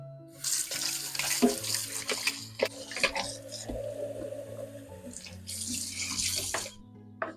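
Water runs steadily from a kitchen tap into a sink while half a kilo of frozen shrimp is rinsed, with occasional knocks and clatters of handling and a faint background hum.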